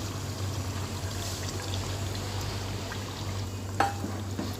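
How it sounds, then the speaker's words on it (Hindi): Whisked yogurt poured into chicken and potato curry in a pan, a soft continuous pouring and sizzling wash under a low background hum, with a small clink near the end. "तो अब मैं इसमें डाल दूँगी ये आधा कप दही है,"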